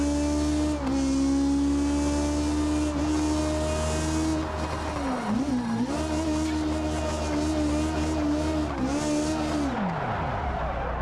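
A drag race car revs hard in the BeamNG racing game, with a loud, sustained engine whine that rises and dips through gear changes, tire squeal mixed in, and no talking over it.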